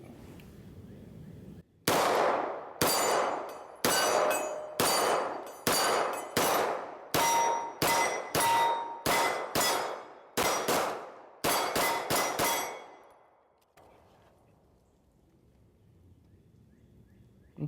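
Shots from a Kimber 2K11 Stainless Target pistol firing 124-grain rounds, about a dozen loud, sharp reports in a fairly steady rhythm with ringing tails, then quiet outdoor ambience.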